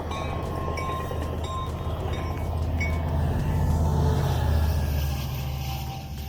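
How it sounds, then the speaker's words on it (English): A train rolls past at close range in San Diego, a steady loud rumble of cars on the rails with faint metallic squeal and clinking over the top, no talking. "When the train passes by, you can actually hear like this screeching noise in the train tracks"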